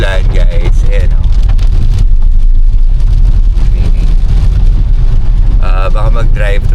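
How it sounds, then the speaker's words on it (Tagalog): Heavy rain drums steadily on a car roof in Pagudpud, Philippines, loud and constant, while people talk over it at the start and end. "since medyo malakas yung ulan, guys, ayan o"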